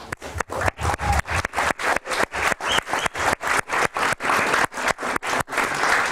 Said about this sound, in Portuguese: E vamos pedir uma grande salva de palmas para a New Way.